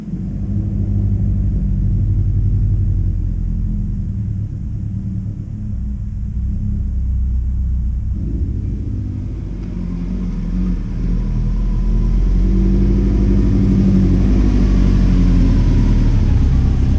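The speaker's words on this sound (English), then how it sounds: "So I'm about to pull the Forester in and start tearing it down" A Subaru Forester being driven into a shop, a close, steady low engine rumble that swells slightly as it moves, with no talk.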